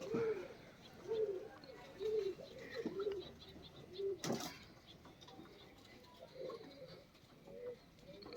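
Repeated soft pigeon coos, about six to eight low throaty calls spaced a second or so apart, with a brief sharp noise midway and faint background ambience.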